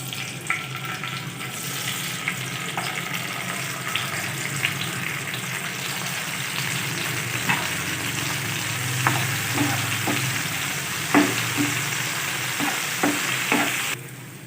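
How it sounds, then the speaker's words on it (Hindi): Raisins roasting in hot oil for Kabuli pulao give a steady, close sizzle that runs the whole time, with a few sharp crackles and stirring clinks near the end and no talking. "इसी ऑयल में किशमिश को रोस्ट कर लेंगे"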